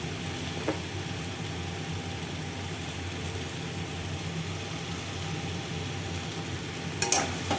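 Chilli, coriander and cumin powders fry in oil in a pan while being stirred, a steady close sizzle with occasional scraping and a sharp clatter near the end, no talking.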